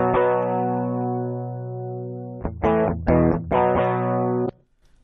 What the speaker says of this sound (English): you can listen to the guitars, and they are just DI tracks